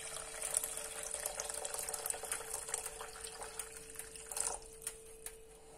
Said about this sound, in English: we're going to place a pot on the stovetop and fill it up with water.